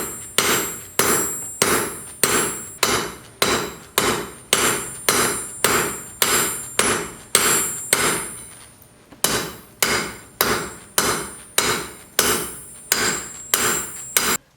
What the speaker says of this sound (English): On the second day, he was hammering like this